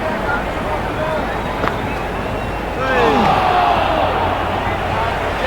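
A large cricket stadium crowd at a T20 World Cup semi-final, India vs South Africa at Wankhede Stadium, roars continuously in the distance, swelling louder partway through, with whistles and indistinct voices mixed in.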